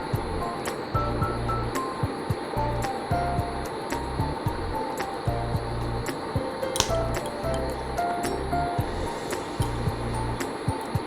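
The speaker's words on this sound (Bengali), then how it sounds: "এবার ভালোভাবে নাড়াচাড়া করে নিচ্ছিলাম" Chana dal halwa being stirred in a pan, with regular scraping strokes of a spoon repeating about once a second over a low steady hum, close by and with no talk.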